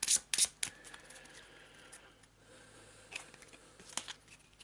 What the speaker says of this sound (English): Oh, my rubbish shuffling.